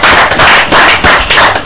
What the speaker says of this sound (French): Ok, on l'applaudit